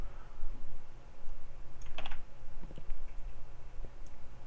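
Keys clicking on a computer keyboard during C++ coding, a short burst of close, crisp taps over a steady background hum, with a few scattered later clicks.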